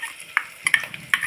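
Ground henna paste sautés with tomato and onion in a pan under a soft sizzle, broken by a few sharp clicks and scrapes of a spoon against the metal.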